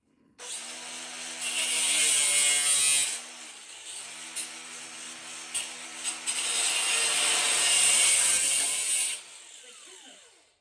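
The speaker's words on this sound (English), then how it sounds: "Super fast grinding sound." Harsh, high-pitched grinding whine from a Milwaukee M18 angle grinder runs in two long bursts separated by a brief pause with a few clicks, loud and close.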